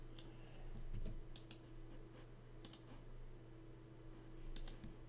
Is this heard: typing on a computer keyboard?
yes